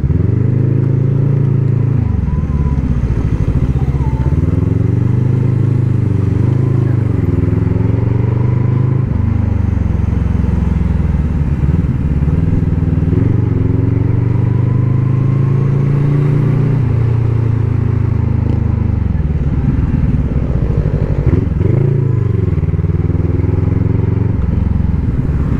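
A Honda Giorno scooter engine runs steadily and loud throughout, a low continuous hum with slight swells in revs and no talking.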